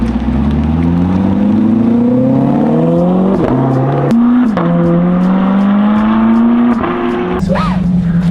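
Chevrolet Corvette C8 6.2-liter V8 accelerating hard, loud and close, its engine note climbing repeatedly with quick gear shifts and faint clicks in between.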